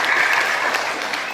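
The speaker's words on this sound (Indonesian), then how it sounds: "Tepuk tangan." An audience at a talk gives a brief round of applause. The clapping is short and moderately loud, with no voices over it.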